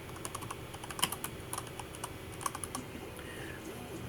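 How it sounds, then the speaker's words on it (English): Someone types on a computer keyboard while entering text in Google Slides. Soft, irregular key clicks come in quick bursts, close but quiet over a faint room hum, with no voice. "In this slide, we're typing in Google Slides."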